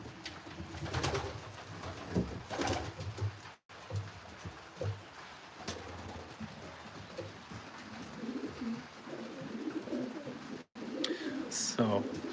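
Racing pigeons coo softly inside a loft at Christmastime, with low murmuring calls rising and falling across the stretch amid steady background rustle and a voice talking at times.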